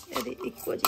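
Steel utensils, pots and glasses clink and clatter while being packed up in a home kitchen, with irregular near knocks and rattles running through the moment alongside faint background voices.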